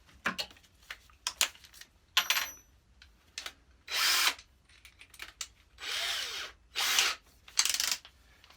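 A power drill drives 30mm screws into plywood while a bench frame is assembled, giving several separate bursts of whirring, each one to two seconds long, with short pauses and clicks of handling between them.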